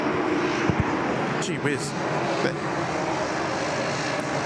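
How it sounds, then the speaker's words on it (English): Airplanes passing at Sydney Airport, heard near the control tower during the morning rush: a loud, continuous engine roar that fills the whole stretch while someone speaks briefly over it. "I don't know why these planes are so loud now."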